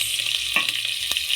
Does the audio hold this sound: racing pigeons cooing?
no